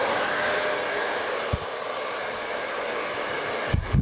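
A hair dryer drying and finishing long hair at a salon chair blows a steady, loud, even whooshing whir throughout, with a couple of soft bumps near the end.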